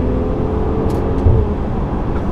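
A 2020 BMW X5 M40i drives in sport mode, its engine a steady low rumble heard from inside the cabin with continuous road noise and a slight surge midway.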